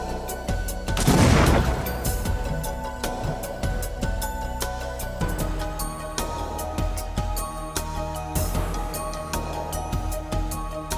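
Detonation of a package bomb during forensic training for investigators: a loud, broad burst near the start, a second blast around the eight-second mark, and continuous crackling and rumbling between and after them.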